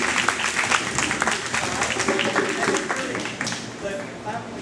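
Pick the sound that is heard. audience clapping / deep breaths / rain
audience clapping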